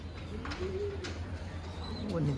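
Domestic pigeons coo softly from a rooftop loft, with several low, rolling coos rising and falling over a steady background hum and faint chirps.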